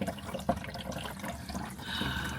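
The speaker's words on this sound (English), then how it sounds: "Oh dang it, we got a leak inside." Water trickles and splashes steadily from a leaking fresh water fitting inside an RV, a close, continuous running-water sound with a small knock near the start.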